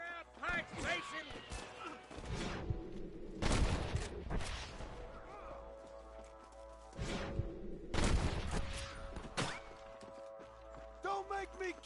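Gunfight with snipers in Red Dead Redemption, several loud clusters of rifle and pistol shots separated by quieter gaps with hoofbeats and background music, and voices talking between the volleys.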